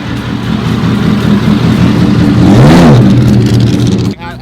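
A Ford Mustang at a car meet drives off with a loud, close engine roar that swells as it revs and pulls away, with voices over it.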